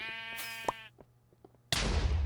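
A sheep in a video game lets out one clear, drawn-out bleat close up, followed by scattered small game sounds and then a sudden loud burst like an explosion.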